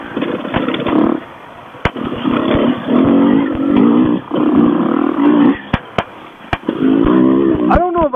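Dirt bike engine revving on a tight trail, rising and falling in loud buzzy bursts with brief pauses and sharp clicks, with people talking over it.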